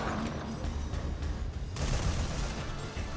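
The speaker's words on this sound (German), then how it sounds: "So, jetzt werden wir auch mal ein bisschen schießen hier." Video game gunfire in Metal Gear Survive: a dense, loud, continuous rattle of shots and booms with a sharp burst partway through, playing throughout without pause.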